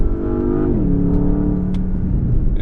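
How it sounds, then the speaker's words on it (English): A 2021 Porsche Panamera's engine revs hard to about 4,000 RPM with a throaty exhaust note that drops in pitch as it shifts down to third, loud and close, no voices. "As you can hear there, the exhaust note sounds great."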